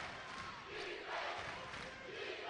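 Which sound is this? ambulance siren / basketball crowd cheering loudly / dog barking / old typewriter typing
basketball crowd cheering loudly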